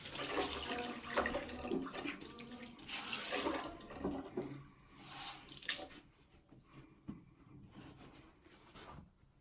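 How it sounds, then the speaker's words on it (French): Tap water runs and splashes into a sink while a face is rinsed, loud and close for about six seconds with rubbing splashes, then fading to quieter drips and trickles. "je pense que je vais me rincer encore une troisième fois parce que j'ai l'impression que j'ai pas bien rincé"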